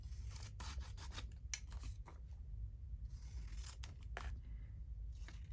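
Scissors snipping through a printed, faded cardstock label, a run of short dry cuts and rubbing strokes in quick succession, close and fairly quiet, with no talking.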